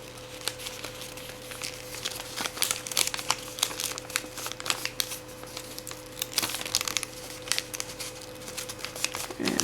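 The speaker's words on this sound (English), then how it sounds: "Now what you want to do is you want to just fold this flap over like this" Origami paper folded by hand for a flapping crane: steady crinkling and crisp rustles with several sharper creases, close and fairly quiet against a low steady background hum.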